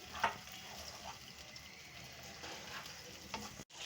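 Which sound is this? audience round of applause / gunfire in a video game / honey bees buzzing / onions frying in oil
onions frying in oil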